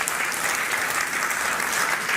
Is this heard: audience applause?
yes